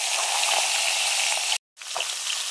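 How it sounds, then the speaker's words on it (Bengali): Big pangas fish frying in hot oil, a steady, dense crackling sizzle that cuts out completely for a moment before resuming, close and fairly loud. "বড় পাঙ্গাস মাছ ভাজি"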